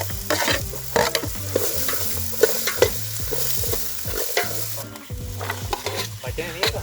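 Onions and garlic sizzle in a pan at a mountain campsite, with steady frying hiss and repeated scraping and stirring strokes, close and continuous.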